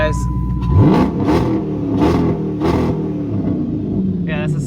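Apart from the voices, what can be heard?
Dodge Charger exhaust revving without rev limiter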